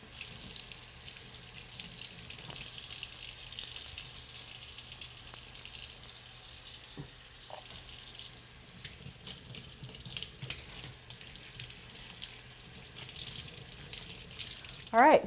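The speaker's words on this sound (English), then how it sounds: "you want to make sure that you are washing your produce thoroughly" Produce being washed under a running kitchen sink tap, a steady hiss of flowing water with small splashes and handling noises, ending in a brief louder clatter.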